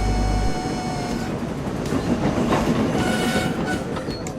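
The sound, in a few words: runaway train running on the rails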